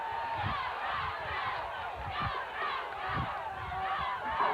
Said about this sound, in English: you can hear the Routt crowd down below us